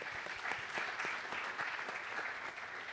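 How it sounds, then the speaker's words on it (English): Audience applause for a speaker at a green hydrogen and German energy transition conference hall, a steady patter of many hands clapping, fairly faint and even throughout. "A round of applause for Dr. Tobias Bishop Names"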